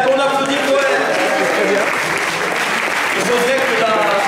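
Audience at a slam poetry semi-final applauds a poet, a steady, dense wash of clapping that fills the room for the whole stretch, with voices and cheers mixed into the crowd noise.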